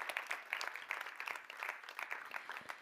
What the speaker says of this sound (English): An applause for our distinguished guests.